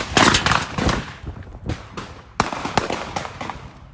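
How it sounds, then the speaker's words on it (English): A rapid, uneven burst of sharp gunshots, loud and close, cracks and pops with several louder reports standing out from the chatter of shots during a live rap performance. "gunshots start going off"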